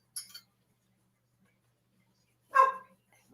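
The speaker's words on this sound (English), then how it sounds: "Excuse my puppy's big mouth." A puppy gives a single close, sharp bark after a short high clink at the start, with silence between them.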